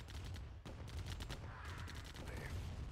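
Turret gunfire in a strategy game, rapid crackling bursts of shots in a dense volley, fairly faint and continuous, with occasional speech over the battle.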